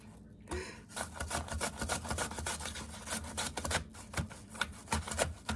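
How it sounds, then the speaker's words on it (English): Apples are sliced on a small kitchen mandolin, giving a quick run of rhythmic scraping, crunchy strokes, close and fairly soft, with no voices. "I've decided to do apple slices using a little mandolin"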